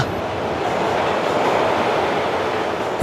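A train rolls into a station with a loud, steady rumble and rattle of the carriages from close inside, with no talk over the noise.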